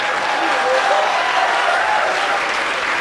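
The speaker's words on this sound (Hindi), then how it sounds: "हमारे दुख में तालियां बजाओ।" Steady, dense audience applause at a poetry gathering, loud and continuous throughout with no break in the clapping.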